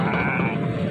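A goat bleats once at Shahpur Kanjra livestock market in Lahore, a short nasal cry close by, set against crowd noise.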